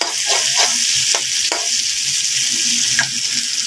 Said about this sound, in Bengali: তো আমি তেলটার মধ্যে দিয়ে দিলাম রসুনটা আদাটা, যেন ভাজা ভাজা হয়ে যায়